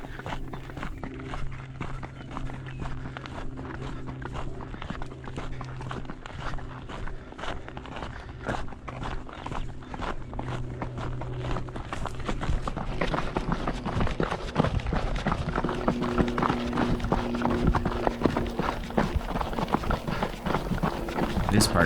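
Horse hooves walking and trotting on a dirt trail during an endurance ride at Antelope Island, a steady rapid patter of footfalls throughout, with a person's voice heard over it.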